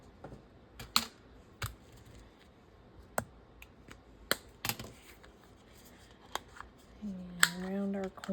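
Scissors trim paper for a purple and teal witch-themed craft, a series of sharp close snips at irregular intervals, followed by a brief voice at the end.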